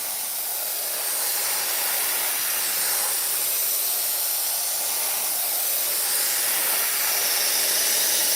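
Steady hissing spray of green paint from a spray gun shot over half-inch masking tape on a 1960 Elco's custom panel, a continuous airy blast that swells slightly and holds without pause.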